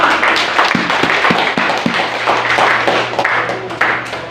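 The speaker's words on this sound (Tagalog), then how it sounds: "Malinang palakpak natin." A church audience applauds, with scattered close claps at first building into a steady wash of clapping from many hands.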